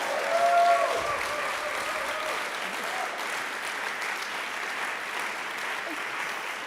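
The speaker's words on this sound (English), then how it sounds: "A big applause to John Chase here and Trixie Steiner" Audience applause at a science and media awards ceremony, honouring John Chase and Trixie Steiner: steady, dense clapping from a room full of people, sustained at an even level throughout.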